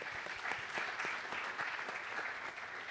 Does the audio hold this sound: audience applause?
yes